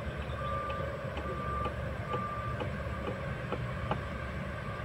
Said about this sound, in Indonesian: Terlihat truk pompa sedang menuju ke lokasi titik pengecoran.